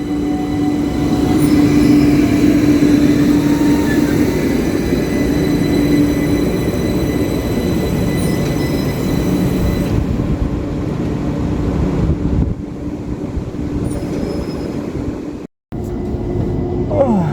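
London Overground train pulling out of Crystal Palace station, heard from on board: a steady loud rumble of wheels on rail with a sustained tonal whine, lasting throughout with a brief dropout near the end.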